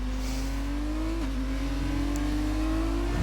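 Formula 2 race car accelerating out of the final corner on a qualifying lap at the Mexico Grand Prix circuit, a loud continuous engine whine rising steadily in pitch with a brief gearshift dip partway through.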